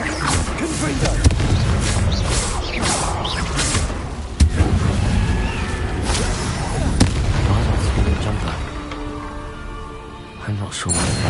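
Confringo blasting spells exploding during combat in Hogwarts Legacy, a dense run of booms and crackling blasts over a constant loud game soundscape, with a shouting voice.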